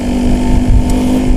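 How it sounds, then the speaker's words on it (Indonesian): A two-stroke motorcycle exhaust drones loudly and steadily at close range, a continuous buzzing engine tone with slight fluctuations and no speech. "Jadi semua knalpot itu baik sebenarnya, suaranya pun bagus"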